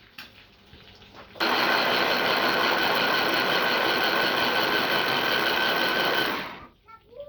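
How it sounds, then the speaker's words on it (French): A kitchen blender whirs loudly and steadily for about five seconds while crushing pomegranate seeds, starting abruptly and winding down near the end, with faint kitchen sounds before and after. "Les grenadines, je vais les passer au mixeur."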